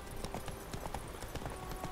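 Horse hooves clip-clopping at a steady gallop in The Witcher 3, a continuous rhythmic beat of close, moderately loud hoofbeats with no talk over them.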